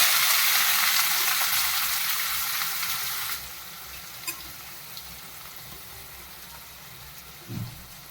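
Onions sizzling in hot oil with cumin seeds and bay leaf for an Odia-style guguni, a loud, steady crackling fry that drops to a softer sizzle partway through, with a brief stir or clink near the end.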